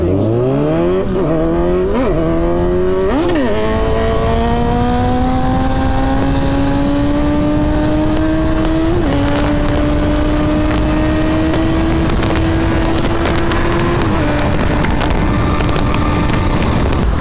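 Kawasaki Z900 and Suzuki GSX S750 motorcycles in a drag race, engines revving hard through several quick upshifts then holding a long rising high-speed drone, loud and close throughout.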